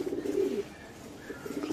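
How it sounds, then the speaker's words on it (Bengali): Pigeons at a busy poultry market in Narsingdi coo softly nearby, one low throaty coo standing out before quieter calls and faint chirps continue. "দেখছেন কবুতরগুলা ভাই"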